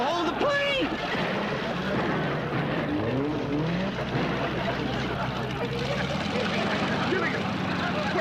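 An airplane takes off in a 1979 island-castaway comedy, its steady engine roar droning throughout beneath loud overlapping shouting voices.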